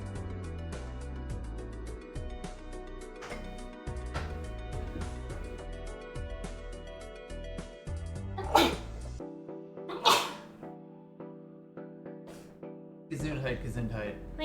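A loud sneeze bursts out, followed by another a moment later, over steady background music and a quiet voice.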